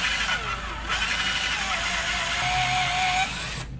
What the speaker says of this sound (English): I've never had any luck drilling stainless